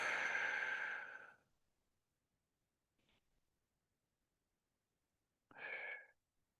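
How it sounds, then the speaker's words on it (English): Slow, deep breaths during a seated mindful movement session, drawn in through the nose and let out through the mouth: one long, full exhale, then a faint short breath, then a shorter audible exhale, each separated by quiet. "Just focus on the breathing, in through the nose, out through the mouth."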